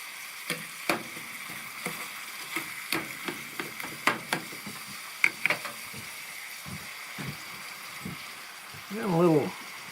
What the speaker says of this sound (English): I got a can of choy stir-fry vegetables to add to it.